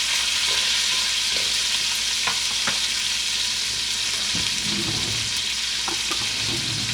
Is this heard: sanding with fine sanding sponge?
no